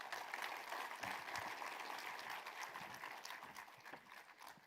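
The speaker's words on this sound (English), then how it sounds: "let's give sir a big round of applause once again, please." Audience applause at a live film trailer release event, a dense, steady wash of clapping from a large crowd that holds loud throughout and tapers slightly near the end.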